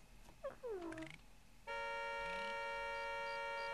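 Cat in The Sims original PC game making synthetic game cat sounds, a few rising mewing calls followed by a steady tonal hum that holds to the end, fairly quiet.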